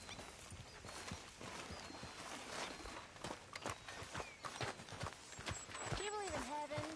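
A horse walks in the video game Red Dead Redemption 2, hooves clip-clopping in an uneven rhythm on the ground, with soft game ambience and a short whinny near the end.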